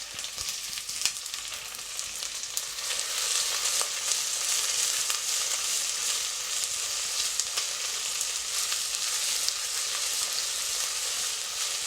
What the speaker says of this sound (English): So my spices have popped. Going to add in my onion.